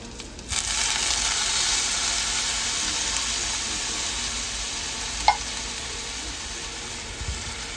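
Corned beef frying in a pan while being stirred, a steady close sizzle with faint scraping and a small clink, no voices over it.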